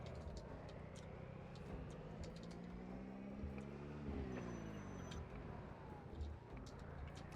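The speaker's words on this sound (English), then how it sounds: "It's a good sounding car. Good sounding vehicle, man." A car engine in the zombie survival game Project Zomboid runs steadily with a low, continuous rumble and a rising-then-falling tone partway through, up close with no talking.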